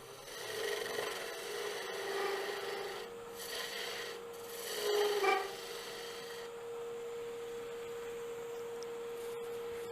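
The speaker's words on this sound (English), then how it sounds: "clean that little nub off with a little bit of 220 sandpaper" A small wooden finial's nub being sanded with 220-grit sandpaper on a lathe, a close, soft rasping rub over a steady motor hum, with brief louder strokes before it settles to the faint drone.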